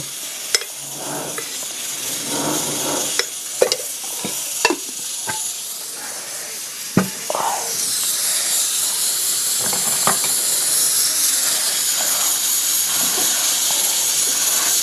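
Oil heats in a wok on the stove as paneer goes in, starting with scattered clatters and stirring knocks over a soft hiss that then swells into a steady, loud, close sizzle with no one talking.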